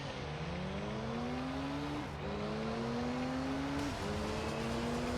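Race car engines in Gran Turismo 3, including the TSO-20, roar continuously at close range, with rising pitch sweeps as they accelerate, a brief dip near two seconds and another near four as gears shift, and no talk.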